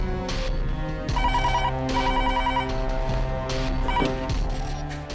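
An indoor telephone rings in repeated electronic trilling bursts, loud and near, with short gaps between rings and no talking.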